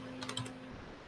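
A computer keyboard gives a quick, faint run of a few keystrokes in a quiet room, with no voices.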